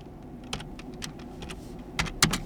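Fingers type on a computer keyboard, making a quick, irregular run of close, crisp key clicks with a couple of sharper strikes near the end.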